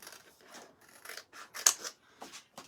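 Scissors snip a transfer backer sheet into small pieces, a series of quiet, close, crisp cuts and paper rustles in irregular bursts, with no voices.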